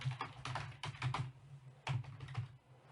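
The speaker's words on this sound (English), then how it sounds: "I'm purely just typing in an email to show you that you can." Typing an email on a computer keyboard, with quiet close clicks in quick irregular bursts, a short pause, then another flurry of keystrokes.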